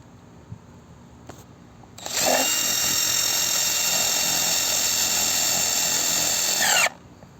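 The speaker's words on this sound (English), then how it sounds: "I'm hoping I can get my screw gun in there and screw it in to the fence" A screw gun whines at high speed for several seconds, driving a screw into a wooden fence while building a pig waterer; close and loud, preceded by faint handling clicks.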